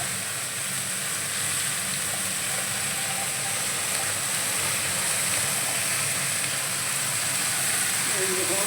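A small splash of water hits a pan of shapla (water lily stems) cooking with hilsa fish heads, raising a steady, close, broad hiss of steam and sizzle that holds evenly throughout.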